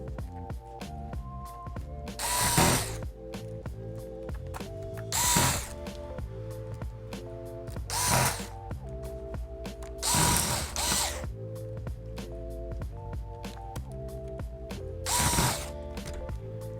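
A small screwdriver ratchets repeatedly while driving screws back into an Acer Chromebook C722 LCD panel, giving rapid clicking pawl sounds in bursts broken by a few sharper louder squeaks or scrapes, close and alone without speech.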